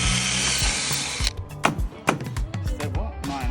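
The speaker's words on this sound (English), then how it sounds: "drill out the aluminium." A power drill whines loudly at first, then stops, followed by scattered clicks, knocks and bursts of the drill against aluminium while installing a window frame.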